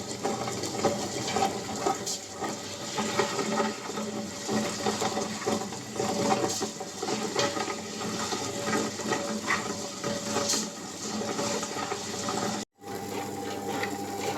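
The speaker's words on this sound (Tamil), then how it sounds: "அடுத்து அரிசியும் கம்பும் சேர்த்து ஆட்டிக்கலாம்" A wet grinder churns rice and pearl millet into dosa batter, giving a steady, continuous whirring and sloshing grind at moderate level with a brief dropout near the end.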